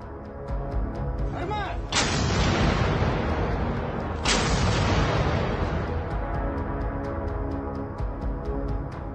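A Ukrainian Armed Forces artillery unit fires in the Tavria area, with two heavy broadband blasts a couple of seconds apart, each trailing into a long rumbling roar over constant loud background noise.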